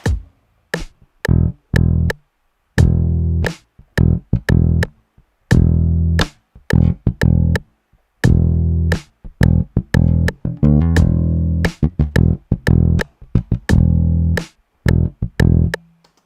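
Dingwall bass groove that leaves the snare hits free, locked over a basic kick-snare drum pattern: a steady run of thumping low plucked notes and drum hits cycling for over fifteen seconds, close and loud.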